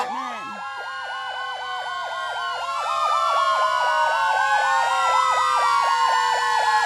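A fire department truck's siren wails loudly and up close in a Christmas parade, its rising and falling electronic tone cycling repeatedly and growing louder as it passes.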